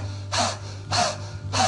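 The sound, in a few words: breath of fire yoga breathing, panting with tongue out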